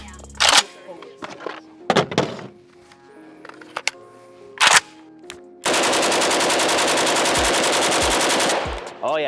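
Pioneer Arms 556 Sporter AK-pattern rifle fed from Polish magazines, firing a few loud close single shots and then a long sustained full-auto burst lasting several seconds outdoors.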